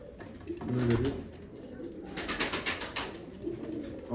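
Pigeons in a coop in Çatalca give soft, throaty coos that repeat over a steady rustling background, with faint indistinct voices somewhere in the space.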